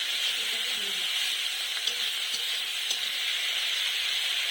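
Ground onion and chili paste sizzle in a hot pan for a fish curry with kohlrabi, a steady, bright frying hiss that holds evenly throughout at close range.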